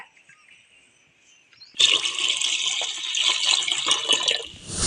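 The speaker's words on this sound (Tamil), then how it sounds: "தண்ணி ஒரு சொம்பு ஊற்றிக்கலாங்க" A jug of water is poured into a pot while aval javvarisi payasam is being made in a home kitchen. A near-silent start gives way to a steady, loud, splashing pour lasting about three seconds, with no speech.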